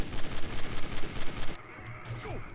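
Rapid bursts of gunfire in the Garry's Mod Zombie Survival game, a dense loud volley for about a second and a half, then it thins out to a few fainter shots and some rumble.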